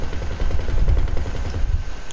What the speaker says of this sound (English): That is the sound of a 50 cal.